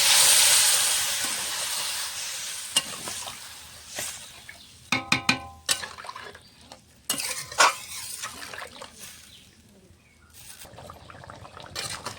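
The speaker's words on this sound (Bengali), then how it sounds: "ডিম আলু সয়াবিন একসঙ্গে কষানো হয়ে গেছে, জল দিয়ে দেবো" Water is poured into a pan of egg, potato and soybean curry that has been cooking in spices, with a brief hiss and steam, then stirring and clinks of a utensil against the pot.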